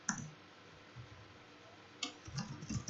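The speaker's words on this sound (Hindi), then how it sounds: "ये टाइपिंग करता चला जा रहा हूँ मैं, ठीक है, ये टाइपिंग कर रहा हूँ।" Sparse, quiet clicks from a computer keyboard during an MS Office lesson, a single tap at the start and a small cluster of keystrokes near the end, over a faint steady background hiss with no talk.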